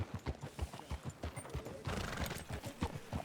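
Horse hooves clip-clopping in Red Dead Redemption 2 as riders travel through a town, a quick, close, steady rhythm of hoofbeats with no talk over them.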